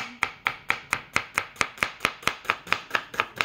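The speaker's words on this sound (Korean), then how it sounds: "우리 도영이 잘 써네, 양파. 손 조심해" A knife chops onion on a cutting board in a home kitchen, a steady rapid run of about fifteen crisp, even knocks against a quiet background, with no voices.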